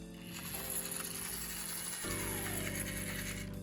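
A model steam locomotive runs in reverse, its middle driver wheel bobbing unevenly, producing a steady ratcheting, gear-like mechanical whir that shifts in pitch partway through and stays fairly quiet.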